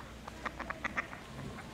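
Several ducks quacking in a short irregular run of nasal calls, fairly faint and at a middle distance over soft background noise, with no voices.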